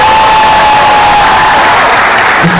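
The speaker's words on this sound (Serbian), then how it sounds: "molim vas veliki aplauz." A concert crowd at Dom mladih Skenderija greets a DJ introduction with big, loud applause mixed with cheering and shouts, forming a continuous roar of clapping throughout.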